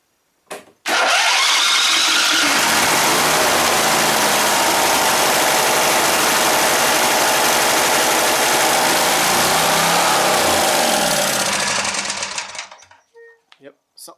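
A rebuilt 20 hp Briggs and Stratton engine cranks, catches and screams at a constant high rev for about twelve seconds before shutting down, leaving a few faint clicks afterward.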